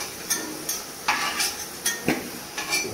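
Potatoes fry in a pan while a utensil scrapes and stirs them, giving regular metallic scraping strokes every half second over a soft background sizzle, close and clear with no talking.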